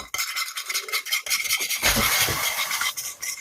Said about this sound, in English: A whisk.